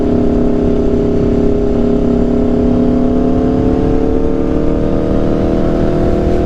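Aprilia RSV4 superbike fitted with an SC-Project CRT exhaust pulls hard at partial throttle in the rain, a loud, steady rising engine note with dense harmonics holding close for the whole stretch.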